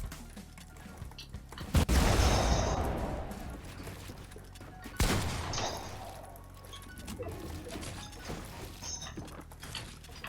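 Gunfire in a video game played through a new microphone, with two sharp bursts followed by a crashing, decaying rumble over steady background noise.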